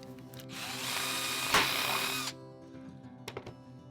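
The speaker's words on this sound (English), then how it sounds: "Now let's drill some holes in it." A power drill bores a hole through a piece of wood for a flag pole, a whining grind lasting about two seconds before winding down, followed by a couple of light knocks.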